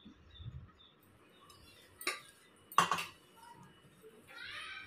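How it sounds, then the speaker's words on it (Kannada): Gram flour paste for Mysore pak is mixed with a wooden spatula in a pan, giving two brief scraping knocks in quiet surroundings, soft and close. "ಒಂದು ವುಡ್ಡನ್ನು ಸ್ಪ್ಯಾಚುಲ ತೊಗೊಂಡು ಈ ರೀತಿ ನೀಟಾಗಿ ಮಿಕ್ಸ್ ಮಾಡ್ಕೋತೀನಿ"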